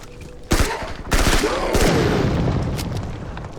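Explosion in DDoD, an open-world isometric RPG, with sharp booming bursts and rapid gunfire-like cracks, followed by a lingering rumbling tail. The sound is loud and close.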